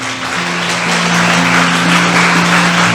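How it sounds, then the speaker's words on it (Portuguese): A church congregation applauds, giving sustained clapping that swells and holds steady at close range, with a faint held tone underneath. "Dê um aplauso ao Senhor."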